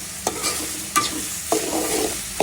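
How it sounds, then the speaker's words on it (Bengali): Kalmi greens with loitta dried fish sizzle in a pan. A utensil scrapes through them in four evenly spaced stirring strokes, close and fairly loud, with no voices. "এটা একটু ভেজে নেবো"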